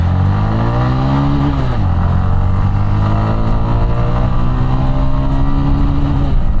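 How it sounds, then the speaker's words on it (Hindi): A Bajaj Platina 110 motorcycle with a 110 cc engine launches and accelerates: a loud, close engine note climbs in pitch, drops briefly at a gear change, then rises steadily again. "करते हैं बाइक को लॉन्च"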